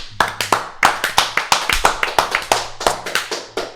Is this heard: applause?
yes